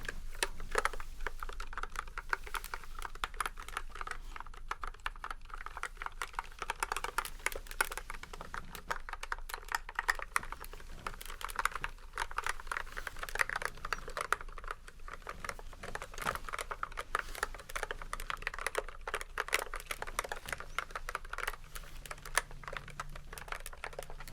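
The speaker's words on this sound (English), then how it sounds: "Let's turn that on and have a listen to this keyboard here" Continuous fast typing on a clicky computer keyboard, close and crisp, with a dense stream of sharp key clicks and occasional heavier strokes, no voice over it.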